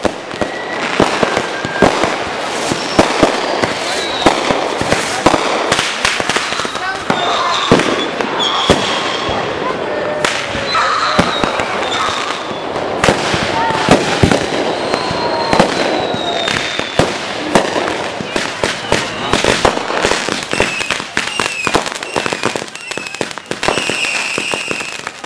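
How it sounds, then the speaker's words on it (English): Consumer fireworks set off by people in a park crackle and pop continuously, with dense firecracker volleys, sharp bangs and whistling rockets overlapping, loud and close throughout. "People shooting off their own fireworks right in the park."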